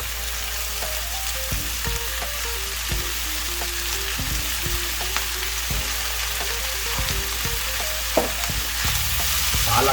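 Spinach (palak) sautéing in a pan for dhaba-style Hyderabadi paneer: a strong, constant sizzle close by, broken by the scrape and clatter of stirring.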